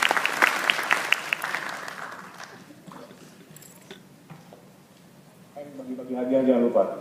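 Audience applause for an Indonesian speaker at an opening-speech event, a dense burst of clapping at the start that thins out, with a voice talking over it toward the end.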